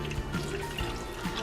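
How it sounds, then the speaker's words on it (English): Beef broth poured into a crockpot pot roast, a short soft splashing and dripping trickle heard faintly up close. "And then I'm going to add a cup of beef broth."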